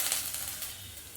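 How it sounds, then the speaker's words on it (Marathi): Finely chopped ginger and garlic frying in hot oil for Mumbai-style Schezwan fried rice, a steady close hissing sizzle with no voices. "याला आपण चांगलं मिक्स करून थोडंसं परतून घ्यायचं आहे तेलामध्ये"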